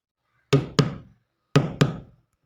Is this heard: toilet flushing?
no